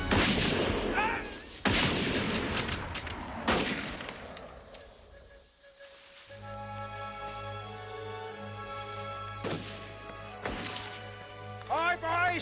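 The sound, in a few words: gunfire and artillery in battle scene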